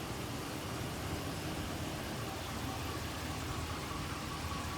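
A big black Hemi pickup truck engine runs steadily on its last ride, a constant low rumble with road and cabin noise, even and unbroken, with nobody speaking.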